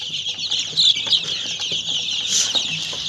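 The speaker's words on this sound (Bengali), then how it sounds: "আমাদের এখানে পাঁচশো ফাওমি মুরগির বাচ্চা বোর্ডিং চলতেছে" Hundreds of young Egyptian Fayoumi chicks and hens at a brooding farm fill the air with a steady, dense chorus of high peeping and soft clucking, with no pauses and no voices.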